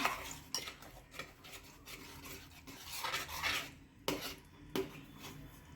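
Cooked flour dough for fasting medu vada being stirred and scraped continuously in a pan, a rough rasping scrape repeating in uneven strokes, close and fairly quiet, with no voices.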